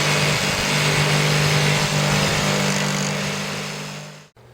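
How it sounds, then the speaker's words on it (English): A power tool runs steadily while cutting a sink hole in cement backer board with a hole bit, a loud continuous whine that holds for about four seconds, then cuts off abruptly. "Cut the backer board sink cutout the same way you did the plywood."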